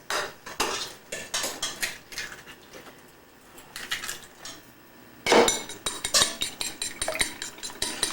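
Rapid clinking and tapping of a utensil beating eggs in a bowl in quick bursts, pausing briefly before resuming more vigorously, close up and without talk.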